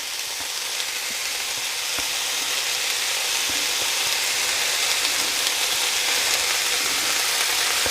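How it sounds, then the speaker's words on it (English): Keema mixture sizzles steadily in a pan as lemon juice is squeezed straight in, a continuous crackling fry with small pops, moderately loud and close with no talking. "into this I'm going to squeeze in my lemon juice straight in like that"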